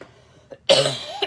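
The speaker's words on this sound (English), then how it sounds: "Still have a little bit of that cough going" A single loud, close cough from a person during a live stamping session, preceded by a faint breath and trailing off into a short throaty rasp.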